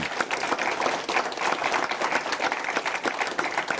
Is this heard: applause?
yes